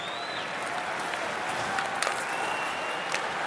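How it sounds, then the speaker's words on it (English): A hockey crowd at Madison Square Garden applauds steadily through the whole stretch, a broad even wash of clapping with a few sharper whistles and shouts poking out near the middle and end. "Good crowd here on this Saturday afternoon at MSG."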